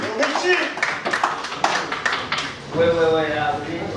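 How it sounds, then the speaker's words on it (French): Scattered audience clapping greets a guitarist at an evening workshop showcase, a burst of claps over the first couple of seconds mixed with a voice speaking loudly over it, and the voice carrying on alone afterward. "Applaudissons très fort, Tonton Richie"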